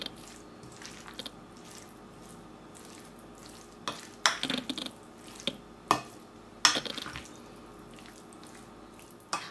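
A spoon stirs vinaigrette salad of beets and vegetables mixed with milk and sugar in a kitchen, giving soft wet squishes and clicks that come in clustered bursts with quiet pauses between, close and unaccompanied by talk.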